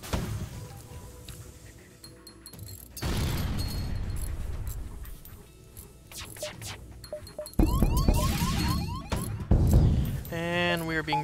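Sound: explosions of bombardment on the ship in video game FTL

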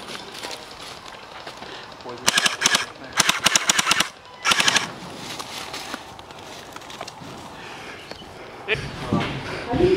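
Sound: gel blaster guns firing during milsim game

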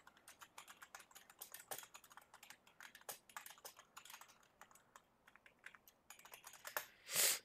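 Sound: typing on a computer keyboard

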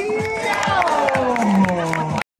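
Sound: crowd applauding and cheering at bike festival

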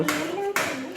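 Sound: children clapping hands

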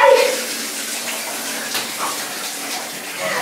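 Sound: water poured over a girl for a bath

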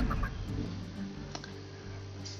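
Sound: chicken clucking in Hearthstone video game

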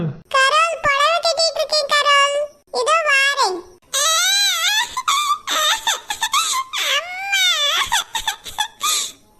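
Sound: baby crying

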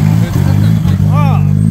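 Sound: drift car engine revving

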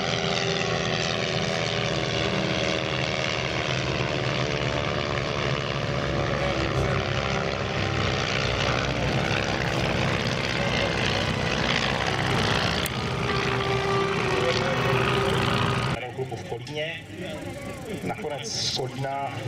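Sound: propeller biplanes flying past at air show, led by Stearman

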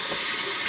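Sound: rinsing a shaving brush under running water

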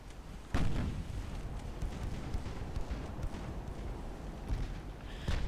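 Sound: naval gunfire in the video game Ultimate Admiral Dreadnoughts

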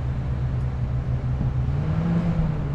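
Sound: overlanding vehicle engine on a rocky trail

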